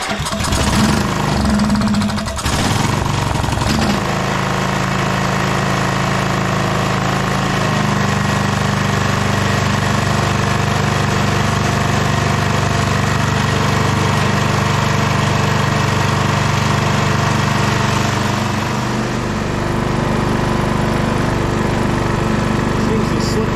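The engine of a Scotts 15/42 lawn tractor catches and settles into a loud, rough, steady idle that runs close up and continuously, with the pitch shifting slightly partway through.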